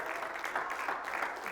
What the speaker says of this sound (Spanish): Dale fuerte ese aplauso al Rey de Reyes.